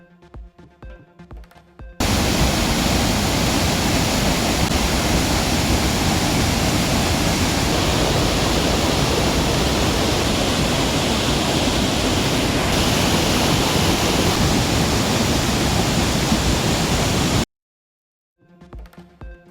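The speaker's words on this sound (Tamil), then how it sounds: "அகஸ்தியர் அருவியில் ஆர்ப்பரித்து கொட்டும் தண்ணீர்" Agasthiyar waterfall in flood after continuous rain, a loud, dense and unbroken roar of gushing water lasting about fifteen seconds, with brief music before and after.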